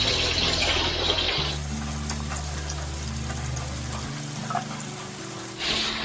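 Continuous sizzling of unripe soursop frying in hot oil, steady and close, with a brief burst of louder hiss near the end.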